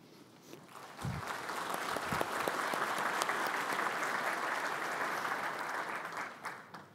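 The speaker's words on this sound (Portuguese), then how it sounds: "Em nome da, de toda a Abrint, recebam nosso aplauso." An audience at the opening ceremony of the ABRINT 2017 conference breaks into dense, sustained applause that swells after a second and holds steady and loud for about six seconds before tapering slightly.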